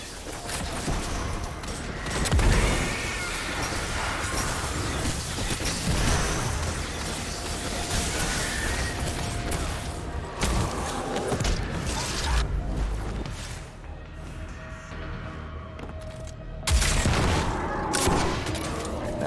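Steady shooting and mechanical combat noise in a wizard-themed video game, sustained over a long stretch at fairly even loudness with occasional sharper bangs and a voice talking now and then.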